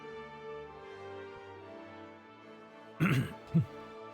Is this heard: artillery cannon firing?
no